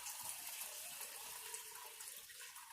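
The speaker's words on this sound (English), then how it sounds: "So I'm pouring back through into this kettle after I've washed it out." Strained chicken bone broth poured steadily into a freshly washed kettle, a continuous soft splashing stream of liquid, close and fairly quiet, with no voices.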